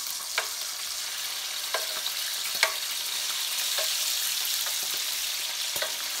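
Strips of bacon sizzle in a pan with a steady, dense crackle, punctuated by sharp spits and pops scattered throughout, close and fairly quiet, with no voices.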